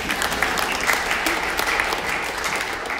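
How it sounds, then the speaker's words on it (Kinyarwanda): A church congregation at an Anglican service applauds loudly and steadily, a dense wash of many hands clapping throughout with faint voices mixed in. "Mumere Imana amashyi cyane."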